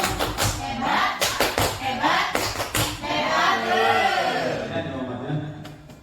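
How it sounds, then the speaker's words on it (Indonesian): A group in a classroom discussion session claps in short rhythmic bursts of applause, fairly near, followed by a voice talking. "Tepuk hebat untuk tulis. Tepuk hebat"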